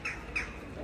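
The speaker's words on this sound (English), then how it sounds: "Above, birds chirp and you instinctively look up only to notice a tall church tower." Two short squawking bird calls ring out above a street in Amsterdam, a fairly faint pair of chirps over a low city hum with no talk.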